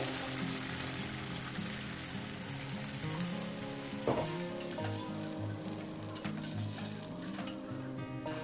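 Potatoes being fried with spice masala in a pan for a katla fish curry, a loud, steady sizzle close up, with a brief clink of a utensil partway through.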